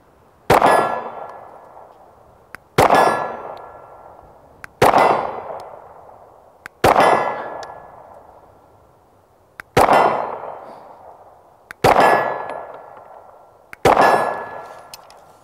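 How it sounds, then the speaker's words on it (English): Seven sharp metallic clangs ring out at steady intervals as rounds from an Arex Gen 2 Delta L pistol strike a steel gong 35 yards away, each hit followed by a long fading ring. "Gong out there at 35 yards."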